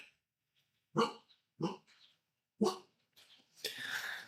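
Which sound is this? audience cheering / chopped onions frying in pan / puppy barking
puppy barking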